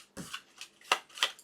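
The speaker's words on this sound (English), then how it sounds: "And I will also shuffle these cards into a new deck." A deck of cards from a board game is shuffled by hand on a table, giving several brisk papery riffles and flicks in an uneven rhythm, close and fairly quiet with no speech.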